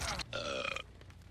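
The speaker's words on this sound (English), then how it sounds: "That burp wasn't me, by the way." A single deep, drawn-out burp, loud and close, following a short noisy burst and fading into quiet room tone, with no talk.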